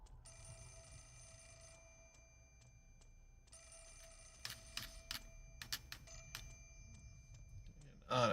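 A telephone bell rings in the horror game Mask of the Lunar Eclipse. Two sustained ringing bursts sound over a low background drone, followed by a run of sharp clicks and knocks.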